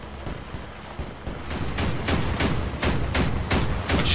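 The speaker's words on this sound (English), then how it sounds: "Whoa, we're getting hit. Taking heavy fire." Heavy gunfire in the vehicle combat game Crossout, a steady series of sharp impacts striking an armored car, the hits growing louder and more regular over about four seconds.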